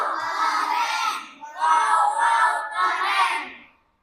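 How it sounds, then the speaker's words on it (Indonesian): Schoolchildren in a classroom shout the rhythmic tepuk wow clap chant together, three loud bursts of group voices with claps, ending abruptly. "Ibu ingin kita sama-sama memberikan tepuk wow untuk kita semua."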